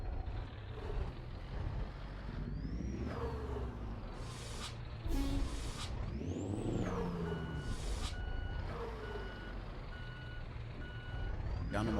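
A Scania truck reversing to park in Euro Truck Simulator 2, its repeated reversing beeps pulsing over a low diesel rumble, with bursts of air-brake hiss and rising whines from the engine.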